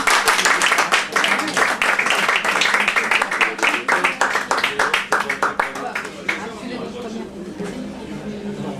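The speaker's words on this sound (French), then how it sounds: "On peut l'applaudir." An audience applauding after a poetry reading, loud clapping with distinct individual claps standing out in a fast rhythm, gradually thinning and softening toward the end, with chatter and voices underneath.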